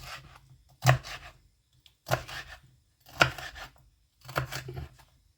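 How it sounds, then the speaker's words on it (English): Knife chopping sweet peppers, four separate bursts of blade strikes on a board spaced about a second apart, close and moderately loud, no voices. "now it's time to start cutting the sweet chilies, not chilies,"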